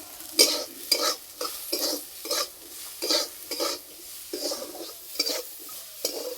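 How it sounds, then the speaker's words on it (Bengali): Cauliflower stirred and sautéed in a pan with chilli, cumin and turmeric powder and salt, making a rhythmic series of about a dozen close scraping, sizzling strokes with no talking. "মশলার সঙ্গে কপি খুব ভালো করে কষিয়ে নিয়েছি।"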